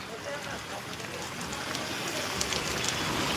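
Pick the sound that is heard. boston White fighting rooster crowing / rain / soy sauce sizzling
rain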